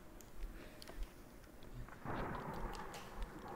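Thunder rolls in after a lightning strike in a VRChat horror map game: a broad, rumbling swell builds midway and holds steady to the end under a noisy ambient background.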